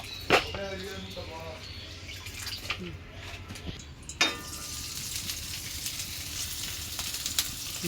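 Potatoes fry in a pan, a soft, steady sizzle running throughout at low volume, broken by a few sharp clinks and stirring sounds, with a faint voice briefly audible early on.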